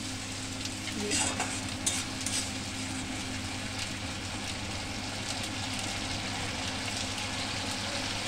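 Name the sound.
eggplant and chela fish frying in a pan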